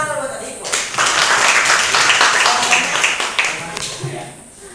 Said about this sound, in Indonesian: Adik kita tepuk tangan buat adikku.